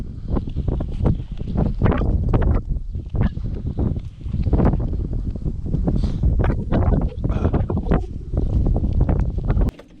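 Cold wind blows hard at a bay, roaring against the microphone in continuous loud gusts for the whole stretch, with no talking.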